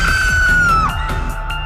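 A single loud, piercing scream in a Korean thriller series about students menaced by alien creatures, holding high then sliding down before breaking off.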